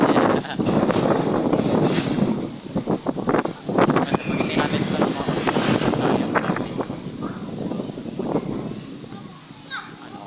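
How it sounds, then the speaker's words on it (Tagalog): Gusty wind at a lake buffets the microphone loudly throughout, with people talking and children's voices mixed in underneath. "Grabe ang hangin din."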